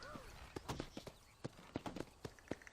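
Horse hooves clop over rocks in the video game Red Dead Redemption, a string of uneven close hoof strikes with faint talking and a whistling tone early on.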